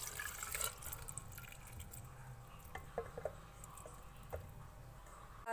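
Water poured into a blending jar holding boiled potatoes, a short splashing, trickling fill with a few drips, close and fairly quiet, no talking.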